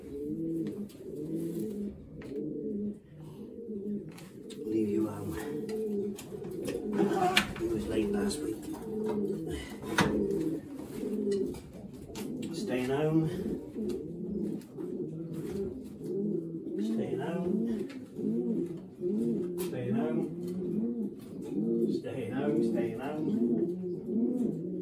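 Racing pigeons coo in low, repeated throaty phrases, overlapping and close, with a few faint rustles in the background.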